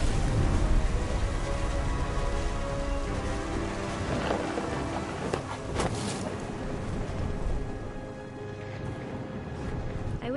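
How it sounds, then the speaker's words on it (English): Steady heavy rain pours throughout a storm in What Remains of Edith Finch, with low rumbling thunder rolling underneath and a few sharper cracks in the middle, loud and continuous with no talk. "The thunder sounded much too close and full of angry power."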